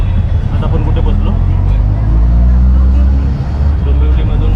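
Steady engine drone and road rumble from inside an auto rickshaw travelling through Dombivli after leaving the train, loud and continuous with traffic noise around, while people talk over it.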